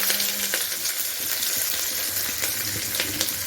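One large chopped onion and two green chillies frying in oil in a pan, a continuous close crackling sizzle with occasional light stirring clinks and no voices.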